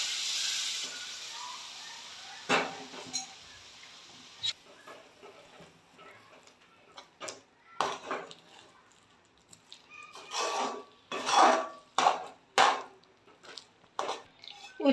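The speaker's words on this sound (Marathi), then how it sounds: "मी इथं 4 वाट्या पाणी घालून घेणार आहे." Water is poured in small additions into a hot pan of finger millet flour and semolina for upma, giving quiet hissing and sizzling bursts that grow louder and more frequent toward the end.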